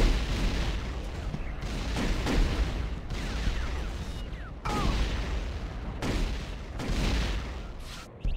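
Rapid bursts of plasma rifle fire in Unreal Tournament, loud and dense, with repeated volleys separated by brief gaps and booming impacts over continuous game noise.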